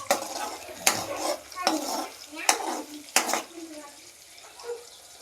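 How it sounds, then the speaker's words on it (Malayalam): Ginger paste being sautéed in a pan, with a spoon clanking and scraping against the metal about five times in an irregular rhythm over a soft sizzle, close up. "ഇഞ്ചി പേസ്റ്റ്, നന്നായിട്ട് വഴറ്റാം."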